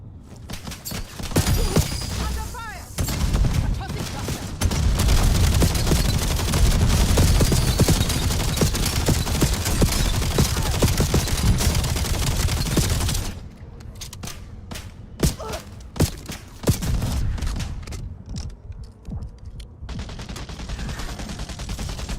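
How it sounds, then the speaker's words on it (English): Rapid automatic gunfire rattles in the shooter game Endgame, dense and loud bursts for several seconds, then sparser single shots and short volleys follow with quieter gaps between. "We're shooting back today."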